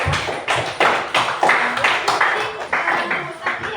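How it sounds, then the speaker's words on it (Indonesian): Classroom group applauding group 2 during a school presentation on critical thinking; uneven clapping with distinct, tapping claps spread across the clip, fairly close and moderately loud, with some voices mixed in. "Ayo tepuk tangan untuk kelompok 2."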